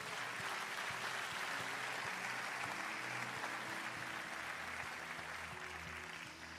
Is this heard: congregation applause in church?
yes